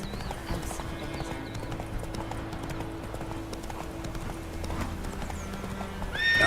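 Roach the horse trots in The Witcher 3, a steady rhythmic clip-clop of hooves, close and continuous, over a low game ambience, with a short whinny near the end.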